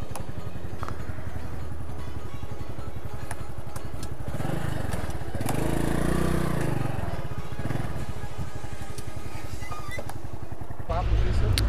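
A Honda Pop 110i motorcycle engine runs steadily close by in a water-filled tunnel, its drone rising briefly in the middle before a sudden clatter near the end; people talk over it.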